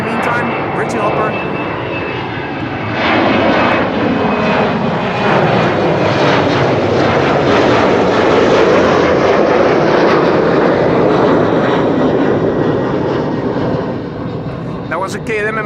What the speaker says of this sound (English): That was a KLM Embraer 190 to Leeds.